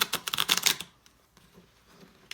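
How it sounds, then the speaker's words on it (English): A thin deck of mermaid tarot cards is shuffled close up in a quick flurry of crisp riffling snaps lasting under a second, followed by faint handling rustles and near silence. "I'm going to do a quick mock shuffling here, and I'm just going to see how they shuffle"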